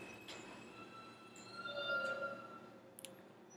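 A New York City subway M train rumbles past in Ridgewood, a low steady roll with faint metallic squeals and clicks that swell briefly mid-clip, heard from a distance and fairly quiet, with no one talking.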